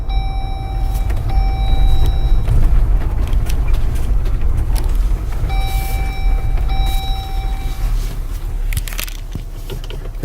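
A Jeep Wrangler JL rolls forward and turns, its engine rumbling low and steady up close, with beeping sensor tones sounding twice and crunching gravel under the tires.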